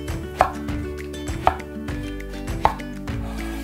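A knife slices eggplant diagonally into thin pieces on a cutting board, with three sharp chops spaced about a second apart over a steady low background, close and clear, no speech.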